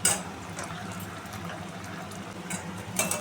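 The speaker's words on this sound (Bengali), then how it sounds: "আমার তেল গরম হয়ে গেছে। এবারে আমি আদা, জিরে, টমেটো, কাঁচা লঙ্কা বাটাটা দিয়ে দেবো।" Ginger, cumin, tomato and green chilli paste hits hot oil in a pan for stuffed pointed gourd, giving a steady low bubbling, watery sizzle for about three seconds, with a brief louder burst at the start and again near the end.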